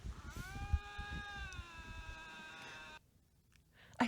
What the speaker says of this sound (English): That's a belching goat or a goat, right? It's those screaming goats.